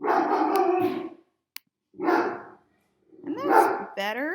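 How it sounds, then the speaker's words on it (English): A dog barks a few times close by in a room, short loud bursts separated by pauses, with a person speaking briefly in between. "Sorry, that's my dog."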